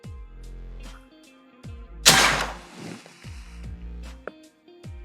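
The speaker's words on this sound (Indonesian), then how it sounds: "Tembakan yang pertama." A single sharp shot from a PCP Bocap AFC 500cc air rifle firing a 13.6 grain Hercules pellet, a loud close crack with a brief hissing tail, amid steady background music.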